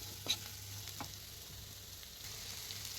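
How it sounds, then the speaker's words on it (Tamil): Cauliflower coated in masala sautéing in oil: a quiet, soft sizzle with a couple of brief stirring scrapes or taps early on, faint and close, no talking. "அப்படியே அது எண்ணெயில் வணங்கும் போதே அப்படியே ஒரு நல்ல வாசம் வருது"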